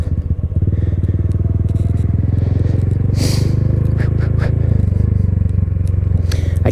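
A Honda Grom motorcycle engine idles low and uneven, close up and steady, its rough chugging pulse sitting on the edge of stalling, with a brief scrape and light rattles partway through.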